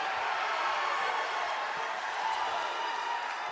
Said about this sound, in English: That brings the crowd up.